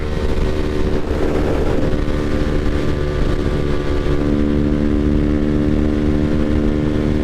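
Motorcycle fitted with a Leo Vince exhaust merging onto a freeway, its engine droning loud and steady at speed with heavy wind noise throughout.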